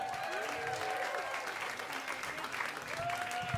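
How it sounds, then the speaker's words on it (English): A stand-up comedy audience claps and cheers steadily throughout, a dense wash of applause with a few whistles. "Make some noise for Kevin."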